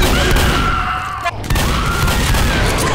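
Rapid shooting in the zombie game Left 4 Dead, a loud, continuous stream of shots and thuds with a brief dip midway, while players talk underneath.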